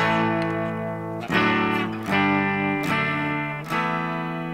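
Clean electric guitar chords ring out from a vintage Marshall amplifier on its clean channel, several strummed hits each left to sustain, bright and full with no talking.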